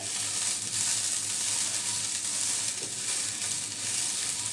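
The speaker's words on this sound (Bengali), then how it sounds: "এটা দিয়ে এভাবে নেড়ে নেড়ে আমি চালটা ভেজে নিব" Rice grains dry-roasting in a hot pan, stirred continuously with a cloth-wrapped stirrer, giving a close, even sizzling rustle with no talk.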